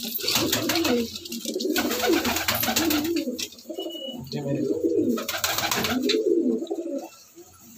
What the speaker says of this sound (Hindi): ये सारे कबूतर मेरे दौड़ने वाले हैं